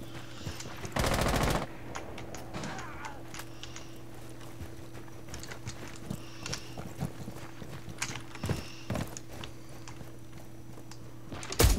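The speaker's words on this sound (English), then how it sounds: "someone just randomly shooting through this barricade" Gunfire rings out in a multiplayer shooter game as someone shoots through a barricade: a dense automatic burst early on, then scattered sharp single shots and clicks over a steady electronic hum.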